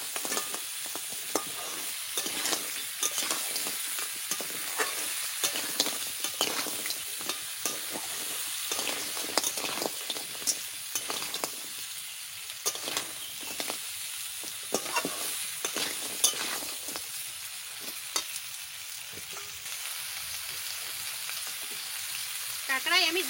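Crab frying and being stirred in masala, a continuous crackling sizzle broken by repeated scraping stirs of a spatula in the pan, close and fairly quiet.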